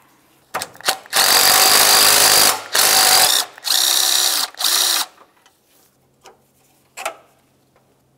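A power tool whirs in several loud bursts of a few seconds each, removing an 8 mm headed bolt that holds a bracket beside the AC condenser and radiator of a 2003-2011 Mercury Grand Marquis, with short pauses between runs.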